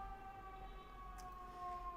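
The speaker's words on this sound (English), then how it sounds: "Sorry for the siren, it's on my end." A fire truck siren wails steadily at a distance, its sustained tones holding through the whole stretch without any voices.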